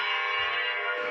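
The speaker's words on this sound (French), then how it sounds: "les cloches du Vatican retentissent partout là-bas à l'Italie." Church bells of the Vatican in Italy ring in a steady, sustained peal, the tones overlapping and droning continuously with a faint low rumble beneath.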